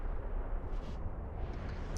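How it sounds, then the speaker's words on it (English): Sustained low booming blasts from missile fire and ship combat in Eve Online, a dense, steady rumble of overlapping explosions with brief flares of brighter crackle. "All the explosions."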